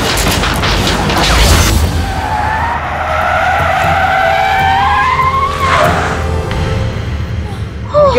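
A car in a horror drama skids with a long, loud tire squeal that rises and bends over several seconds, wrapped in booming impacts and rumbling noise, closing on another short screech.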